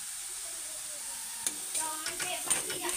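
Cauliflower leaves fry in a pan with a little salt, a soft sizzling hiss that turns busier with stirring and scraping sounds in the second half, close by and without speech.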